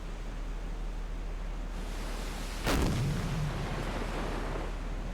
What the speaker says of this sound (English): I think I might have seen an explosion there.